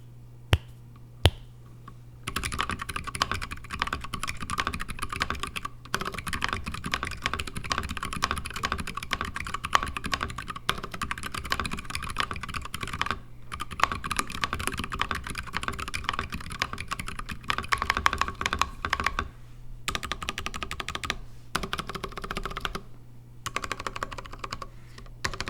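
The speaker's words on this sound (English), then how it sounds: "this was my first custom keyboard that I attempted to build" Rapid clacking keystrokes on a custom-built mechanical keyboard, a dense, steady typing rhythm up close with a few brief pauses and a low hum underneath.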